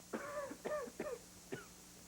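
A parrot makes four short, raspy coughing or throat-clearing bursts, evenly spaced and fairly close, with quiet pauses between them.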